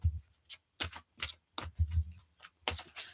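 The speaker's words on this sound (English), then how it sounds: "shuffle the Psychic Tarot for you, Emma" A Psychic Tarot card deck is shuffled by hand up close, producing about ten quick papery riffling bursts separated by short pauses, with no talking.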